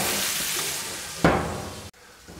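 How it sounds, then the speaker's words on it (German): Krakauer sausages frying in a pan for Polish bigos, giving a steady close sizzle with a brief louder burst midway and a quieter crackle afterward. "Und die brutzeln wir jetzt auch nochmal an."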